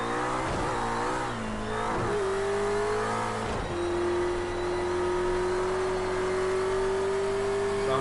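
A race car engine in Project Cars 2 revs and rises in pitch through gear changes, with a couple of brief throttle dips before a long, steady climbing whine, loud and close with no talk.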